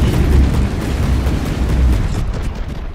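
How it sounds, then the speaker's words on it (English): Missiles detonating in the naval combat game From the Depths: heavy, booming explosions with deep rolling rumble, loud and close, blending into a continuous roar that fades slightly at the end. "the Ignis has just opened up its missile. So yeah, these missiles are very devastating"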